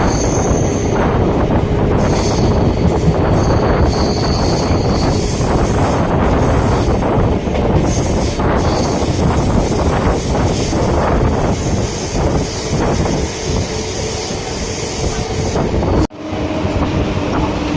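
Loud rumble and rattle from inside a moving Bandel–Naihati local train near Hooghly Ghat, wheels clattering on the tracks with occasional high squeals, continuing steadily until an abrupt cut.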